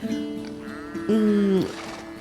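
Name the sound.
goats bleating on a farm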